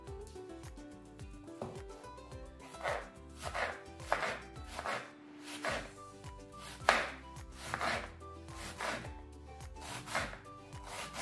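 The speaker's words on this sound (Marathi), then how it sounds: "आपण हा कोबी सगळा चिरून घेऊया।" A knife chops cabbage lengthwise on a board in a kitchen, a steady series of firm thuds and slicing strokes repeating at an even pace, close and alone without talk.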